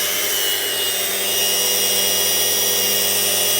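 A power sander runs steadily on wood, a loud continuous whir with a constant tone and no break.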